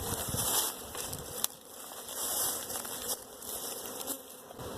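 Honey bees buzz around an open hive box during a thin split, a constant, close droning hum with individual bees whizzing past the ear, no voices heard.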